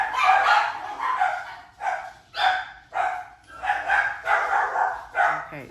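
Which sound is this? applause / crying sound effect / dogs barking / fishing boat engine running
dogs barking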